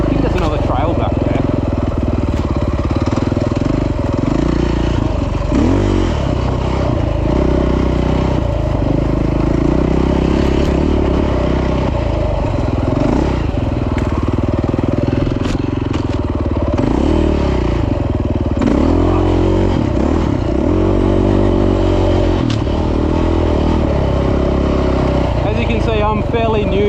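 A KTM 450 EXC dirt bike, custom-built for adventure riding, rumbles steadily on a sandy trail with continuous engine drone, clattering and scraping from the ground, close and loud throughout.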